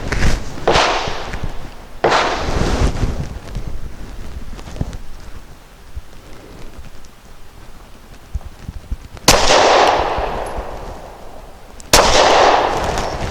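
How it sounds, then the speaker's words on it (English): A DB9 pistol fires five loud, sharp shots outdoors in irregular succession, each crack followed by a brief decay, with wind noise on the microphone between rounds. "So I'm going to put 5 rounds into the top 10 target and see how it compares."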